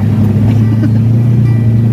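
A Toyota Land Cruiser engine running loud and close, a steady low rumbling drone with slight shifts in pitch and no voices over it.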